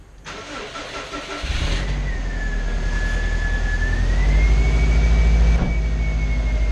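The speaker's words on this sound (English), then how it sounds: "So we'll start the engine up now" A Subaru car engine cranks briefly and catches, then settles into a close, steady idle that swells slightly before easing back, with a faint whining tone running above the engine hum.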